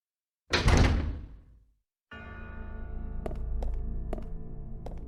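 A door in Resident Evil Zero HD thunks heavily open, then a low rumbling hum follows with several sharp clicks or taps spaced through it.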